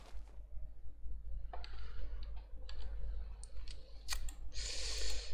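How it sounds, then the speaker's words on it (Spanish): Right mouse button clicks while playing Minecraft, a few sharp, close, faint taps spread irregularly over a low steady hum, with a brief burst of game noise near the end. "Y ahora es clic derecho con la mano."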